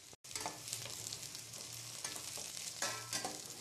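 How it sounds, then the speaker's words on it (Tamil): Capsicum, cabbage and other vegetables sizzle steadily in hot oil while being stirred for restaurant-style egg noodles, a dense continuous frying hiss with a brief gap near the start and no talking. "எண்ணெயில நல்லா காய்கள்லாம் வணங்கணுங்க"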